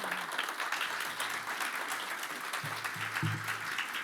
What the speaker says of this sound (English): So can we give her a warm round of applause, everybody?